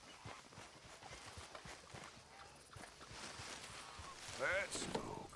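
Horse hooves clip-clopping at a walk in Red Dead Redemption 2, soft steady footfalls under a quiet game soundscape, with a brief animal call near the end and some talk.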